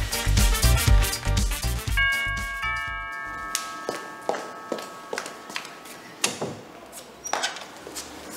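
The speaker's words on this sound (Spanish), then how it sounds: "solo tenemos que esperar a que suene el timbre" A two-tone doorbell chimes at a house door, ringing a clear ding-dong midway through, followed by a series of footsteps walking across the floor.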